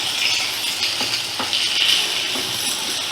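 Sliced onion sizzles in hot oil on a medium flame, a close, steady crackling fry with a few soft stirring scrapes.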